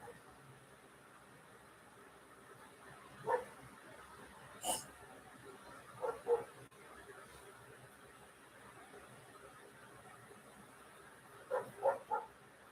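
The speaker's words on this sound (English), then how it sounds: "Hear the doggy barking?" A dog barks a few times at a distance, short sharp yaps in small clusters separated by long quiet gaps over a faint background hiss.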